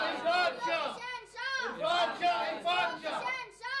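A crowd at an Imam Abu Hanifa religious conference chants slogans together in loud, rhythmic voiced bursts that rise and fall about every half second, sounding close and full.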